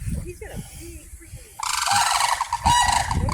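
Turkeys and other fowl call in a loud, harsh honking burst from about halfway through, with two strong volleys over a background of faint bird chatter and rustling.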